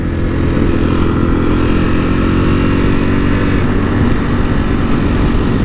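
Two Ducati Panigale V4R motorcycles ride along a beach road, their engines making a loud, steady, close drone that holds without a break.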